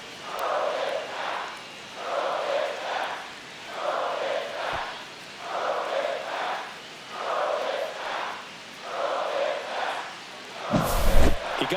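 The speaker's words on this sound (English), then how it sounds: "The crowd is devastated here in New York." Baseball stadium crowd in New York during a Blue Jays–Yankees game, a loud sustained roar swelling and fading in regular waves, with a sharp thump near the end.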